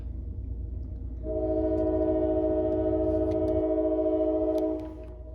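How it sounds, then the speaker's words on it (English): A train rumbles by on the Allegheny West Slope line with a low steady rumble, then a long, loud horn blast holds for several seconds before cutting off, leaving the rumble alone, no voices. "I can't think of a better alarm clock than a train rumbling by"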